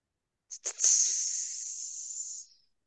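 A voice imitates a rattlesnake's hiss: two short breathy bursts, then one long, steady, sharp hiss lasting about two seconds before fading out. Close and alone.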